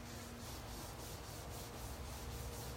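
Steady rubbing and scrubbing on the surface of an inflatable stand-up paddleboard, cleaning the area around a damaged spot before a patch goes on; close, continuous and even in level, with no talking.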